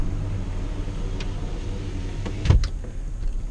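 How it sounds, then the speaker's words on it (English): Low, continuous rumble of a car driving through East Williamsburg street traffic in Brooklyn, with a brief knock partway through. "Driving through East Williamsburg, Brooklyn right now."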